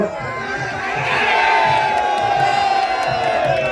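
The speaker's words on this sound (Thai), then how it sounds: "รับเสียงเชียร์มา ระลอกใหญ่ๆนะครับ" A large crowd roars and cheers at a rural Isan Muay Thai boxing match in Sisaket and Ubon, a loud continuous wave of shouting that swells midway, with a commentator's voice underneath.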